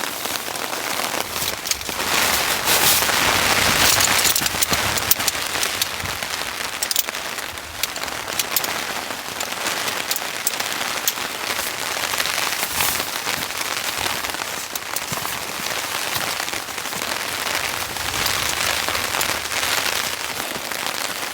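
Heavy rain mixed with snow drums steadily on a winter camping tent during a snowstorm, a dense, continuous patter close overhead with brief louder gusts of downpour and no voices.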